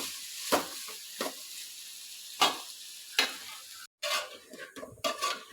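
Potatoes sauté in oil in a pan, a light constant sizzle broken by several distinct stirring scrapes at irregular intervals and a brief gap near the middle, close and without voices.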